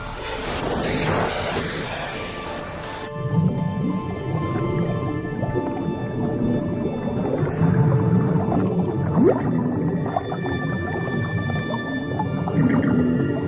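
A dwarf minke whale calls underwater in open sea, producing strange, sustained tonal sounds over a steady wash of water noise, with brief bright pulses at the start.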